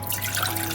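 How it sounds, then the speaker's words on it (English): Water runs in a steady stream, splashing and pattering briefly into a saucepan. "So now I'll add water into another saucepan"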